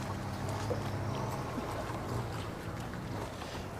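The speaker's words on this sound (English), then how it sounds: "Or you can rent one that is like a speedboat, which is going by now, a motorized boat." A steady low rumble of a motorized speedboat moving past on the water at Damnoen Saduak Floating Market, Thailand, with choppy splashing and wind noise throughout.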